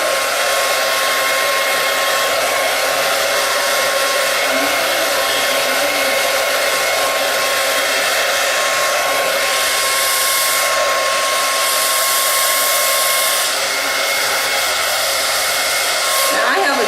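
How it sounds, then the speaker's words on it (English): A Conair 1875 blow dryer on a warm setting dries hair, blowing steadily and loudly throughout, a constant whooshing hum with no pauses and no talking. "1875 blow dryer, and I have it on warm settings."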